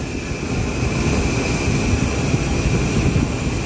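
A car engine idles steadily after an oil cooler line and oil filter adapter gasket replacement, a loud, even low rumble with a constant higher whine, heard close and alone.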